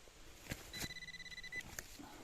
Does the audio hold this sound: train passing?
no